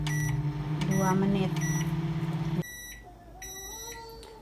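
Microwave oven heating a bowl of water mixed with dish soap, its steady hum running under a voice before cutting off, followed by a series of short electronic beeps.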